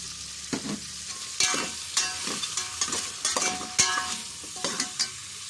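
Cumin powder and a cinnamon stick sizzling in a pan for pork ribs biryani, with a soft continuous fry and repeated scraping stirs, close and moderate in volume.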